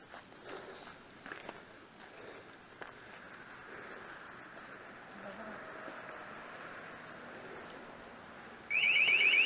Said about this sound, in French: Ah, l'alarme.